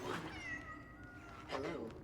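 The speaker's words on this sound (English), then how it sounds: "but also that's a cat." A cat meows during gameplay of Cronos: The New Dawn, a drawn-out wavering call followed by a second shorter meow, close and moderately loud over a background of talk.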